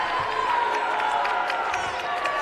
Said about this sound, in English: Crowd getting into it heavily here now